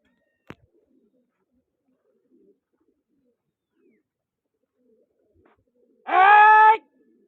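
A single pigeon coo, short and close, sounds near the end of a long stretch of near silence at a pigeon competition, preceded only by one faint click early on.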